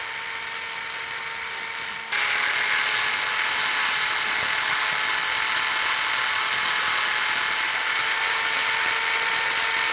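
A power drill bores into a surface to mount a CCTV camera, a steady high-pitched whine that starts after a short lower hum and holds loud and unbroken to the end.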